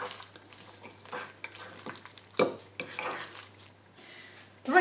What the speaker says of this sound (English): give it one last mix round